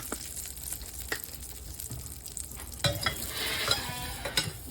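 Minced onion and garlic sizzle in a pan, a close, continuous crackle with intermittent spoon stirs and scrapes, growing busier and louder in the second half.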